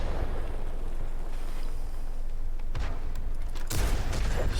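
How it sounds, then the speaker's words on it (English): Artillery shells land in World of Tanks, two sharp heavy impacts a second apart, loud and close, cracking over a constant rumble of engine noise. "Here comes the artillery"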